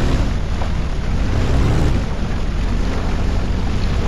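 A ship's engine rumbling and building as the throttle opens in the Ship Simulator Extremes game, a steady low drone mixed with wash of water and wind, continuous and fairly loud with no talk.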